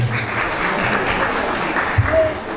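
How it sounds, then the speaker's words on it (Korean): Wedding guests clap briefly to welcome a duo before a song, a close, dense burst of applause that holds steady over a low murmur. "여러분 박수로 모시겠습니다"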